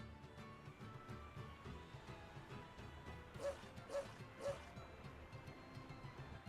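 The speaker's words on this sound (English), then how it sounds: "there's a dog here. Oh, hi, doggy." A dog in the video game Tales of Zestiria gives three short, evenly spaced barks at moderate volume over steady game background sound.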